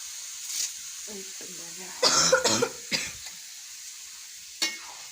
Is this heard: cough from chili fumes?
yes